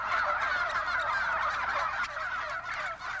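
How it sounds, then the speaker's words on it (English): Several turkeys on a farm gobble together in a dense, continuous warbling chorus, close and fairly loud throughout with no talk. "With just a couple of days left before Thanksgiving, these gobblers are on the farmer's endangered list."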